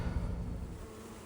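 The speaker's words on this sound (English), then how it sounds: "These are Italian honeybees, so they're not aggressive." Italian honeybees buzz around a car window, a low hum mixed with breezy wind noise, steady and moderately faint.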